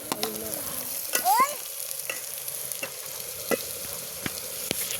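Tomatoes fry with onions over a wood-fired stove while a utensil stirs them, making a steady close sizzle broken by several distinct scraping clicks and a brief squeak, with no one talking.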